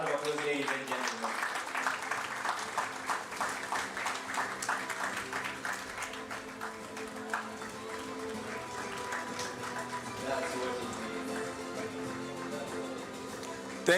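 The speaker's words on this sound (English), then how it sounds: "Round of applause, ladies and gentlemen." An awards-gala audience at a football league ceremony gives a fairly faint, continuous round of applause, with background music and voices running underneath the clapping throughout.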